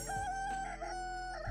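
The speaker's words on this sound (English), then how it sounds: "The fucking chicken noises" Clucking and a rooster-style crow from chickens in a video game, heard as one loud, close call held over a steady electronic tone.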